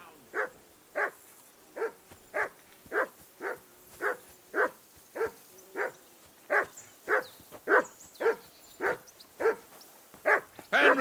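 A dog barks in the medieval game Kingdom Come: Deliverance II, a long run of regular, evenly spaced barks, about two per second, loud and close, with no talk over them.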